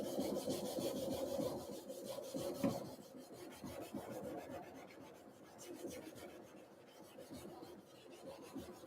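A knife blade is worked on a 400 grit diamond stone for shaping, with steady, soft rasping strokes repeating in an even rhythm, close but fairly quiet, and no talking.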